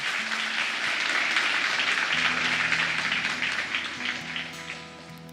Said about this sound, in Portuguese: Será que você pode aplaudir o Senhor Jesus nessa manhã?